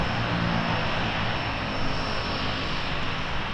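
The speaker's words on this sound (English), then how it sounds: "go down to Victoria Harbour to do some seaplane spotting." A seaplane at Victoria Harbour gives a loud, steady roar of propeller engine noise, continuous and close throughout with no other sounds on top.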